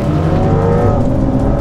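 A C8 Corvette and a Porsche 992 Carrera S accelerating hard side by side in a roll race, a loud, sustained engine drone that holds steady throughout with no talking.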